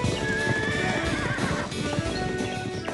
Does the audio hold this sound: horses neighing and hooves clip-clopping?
yes